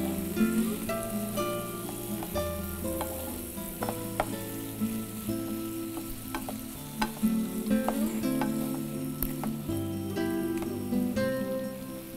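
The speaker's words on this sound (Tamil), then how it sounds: "இது கொஞ்சம் மஞ்சள் தூள், இது கொஞ்சம் நல்லா வதக்கிக்கோங்க." Ginger, garlic and turmeric powder sautéing in a pan: a steady, close sizzle runs the whole time, broken by repeated clinks and scrapes of a utensil stirring, with no talking.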